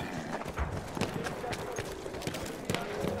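Horses in the Battlefield 1 video game, with hoof clip-clops and scattered impact noises over busy game sound effects, all under someone talking throughout.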